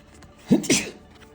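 A single sharp sneeze bursts out indoors, a short two-part explosive burst, close and fairly loud against a quiet room.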